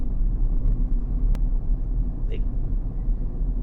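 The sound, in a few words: car engine while driving and turning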